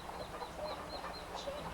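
Hens clucking in a backyard chicken yard, soft repeated calls spread across the moment, fairly faint and distant, no voices present.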